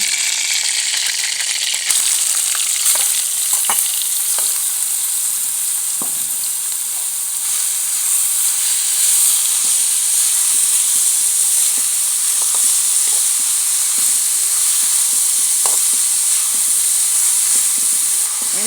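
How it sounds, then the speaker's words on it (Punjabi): Grated pumpkin fries in hot ghee for a village-style Punjabi halwa, giving a loud, continuous sizzle and hiss with scattered small crackles and pops throughout and no talking. "ਹੁਣ ਘਿਓ ਗਰਮ ਹੋ ਗਿਆ ਤੇ ਆਪਾਂ ਕੱਦੂ ਪਾਵਾਂਗੇ"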